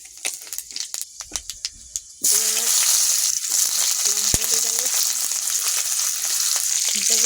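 Panch phoron spices hit hot oil in a kadai: a few sharp clicks and taps first, then an abrupt loud, sustained sizzle with crackling pops, heard up close.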